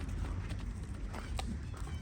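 A flock of black sheep runs in, hooves pattering steadily on the ground in a dense, continuous shuffle with a few sharper knocks, close by and without speech.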